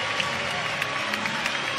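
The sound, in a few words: crowd reacting to Auburn gymnast's beam dismount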